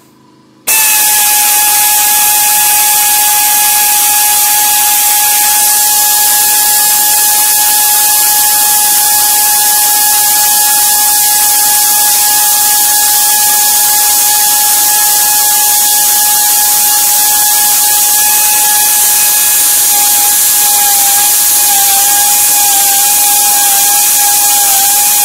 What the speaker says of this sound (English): Just running the tap all the way through to show you there's no tricks, right through 1 inch thick steel plate